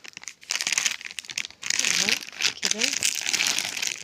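A plastic bag crinkles and rustles in loud bursts close up, with someone talking briefly over it.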